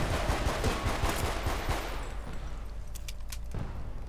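Rapid gunfire from a weapon in the video game Battlefield Bad Company 2, played on the Port Valdes Rush map, with dense bursts of shots early on that thin out into scattered distant battle noise.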